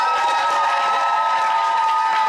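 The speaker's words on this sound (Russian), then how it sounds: "Аплодисменты. Вот сейчас можно добавить голоса." A loud crowd of children at a camp creative contest claps and cheers in a steady, continuous roar, with high shouting voices blending over the applause.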